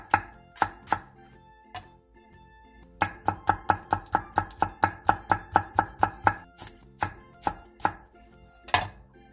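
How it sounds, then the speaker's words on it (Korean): A knife chops green onion and red chili pepper on a cutting board in quick, crisp, close strikes, first a few scattered cuts, then a steady rapid run of evenly spaced chops with brief pauses, no talking. "대파 조금을 길게 반으로 갈라 쫑쫑 썰고 청양 홍고추 반개도 길게 반으로 갈라 쫑쫑 썰어주세요"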